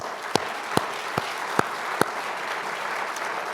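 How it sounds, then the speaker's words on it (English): An audience at a street renaming ceremony applauds city workers with a sustained, crowded patter of clapping, a few sharp, loud individual claps snapping out above the steady wash. "they deserve an applause"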